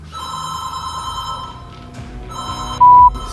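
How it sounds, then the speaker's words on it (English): A telephone rings loudly inside an empty building: a sustained electronic ring cuts off briefly, then starts again, close and clear with no voices. "Then the phone starts going off, ringing loudly in the empty space."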